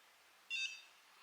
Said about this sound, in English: I like to wait for the first beep.